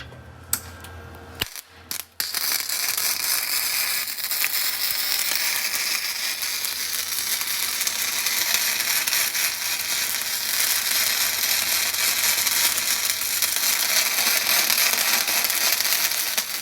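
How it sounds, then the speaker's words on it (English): Welding a steel bolt onto a stripped aluminum oil drain nut on a Detroit Diesel oil pan, a loud continuous crackling, sizzling arc that starts after a couple of brief clicks and runs steadily nearby. "try and weld a steel bolt to it and get it out that way"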